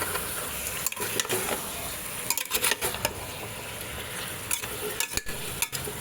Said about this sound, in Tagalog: gisa na naman, gisa.